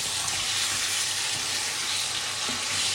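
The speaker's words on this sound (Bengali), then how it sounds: "ছোট ছোট মাছের টুকরোগুলো দিয়ে দিব, মাছের টুকরো দিয়ে এটা একটু কষাই নিব" Small fish pieces frying in spice masala in a pan, a dense, continuous loud sizzle and hiss heard up close with no talk over it.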